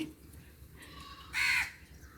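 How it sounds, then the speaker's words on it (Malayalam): A single loud, harsh crow caw rings out nearby, with a couple of fainter calls before it and quiet ambience around. "ഋതുവിൻ്റെ മീൻ കൊടുക്കട്ടെ കാക്കയ്ക്ക്"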